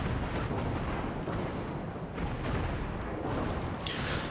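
Naval gunfire from a Minotaur cruiser in the video game World of Warships pounds the player's ship, a heavy, continuous low rumble of shell impacts and booms that rolls on without pause, with a brighter crack near the end.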